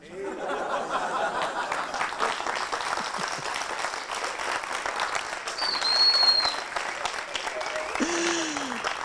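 A comedy-club audience at a stand-up show applauds in a dense, sustained wash of clapping that holds steady for the whole stretch, with a brief chirpy tone near the end.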